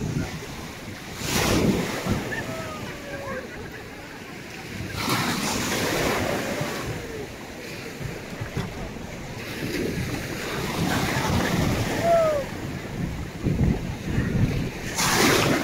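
Sea surf rolls in at Vityazevo beach in late July, with waves crashing in loud bursts amid strong wind buffeting the microphone and a steady roar of water between breakers.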